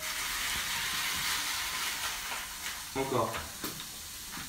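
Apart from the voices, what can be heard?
bacon lardons frying in a pan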